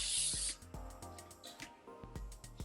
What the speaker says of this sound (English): I'm going to take my hairspray